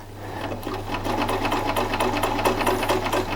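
A Privileg Ideal 750 sewing machine runs a straight stitch through layered fabric with a steady, fast mechanical whirring and rhythmic needle clatter, loud and close, continuous for the whole stretch with no talking.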